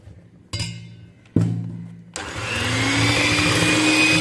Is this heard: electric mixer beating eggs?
yes